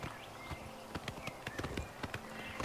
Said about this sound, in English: Why can't I summon the skeleton while riding on the horse?